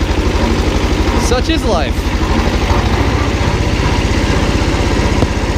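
A two-cylinder 17 horsepower engine on a small Kubota tractor runs with a steady, loud, throbbing low pulse, while someone speaks briefly over it.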